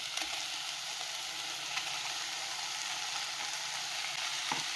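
Chicken pieces with onion frying in a pan, a dense, steady hiss of sizzling oil running throughout with a few faint crackles and no voices.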